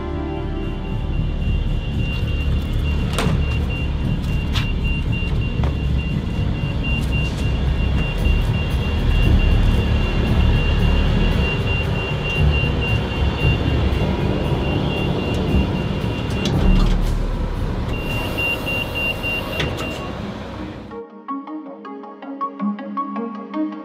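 Tow truck engine running steadily as it drives off carrying a loaded Volga 21 car, a continuous loud drone with passing road noise that cuts off abruptly near the end.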